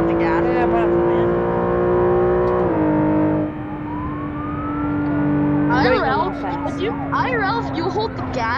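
A car engine in the BeamNG driving game revs steadily, drops briefly as the gears shift, then climbs again, with voices talking loudly over the engine sound.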